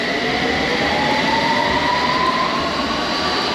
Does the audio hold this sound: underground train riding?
yes